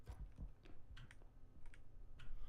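Computer keyboard keys pressed during PC gameplay, a quick run of close, uneven clicks with steady background hum and no talk.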